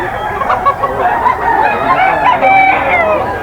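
A Golden Boy gamecock rooster at a Bocaue market crows repeatedly and clearly, its calls rising over a steady, busy background of other fowl.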